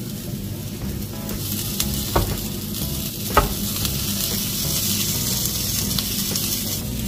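A tomato and cheese omelette sizzles steadily in a pan while a spatula folds it in half, with a loud, continuous close frying hiss broken by a couple of brief scraping taps.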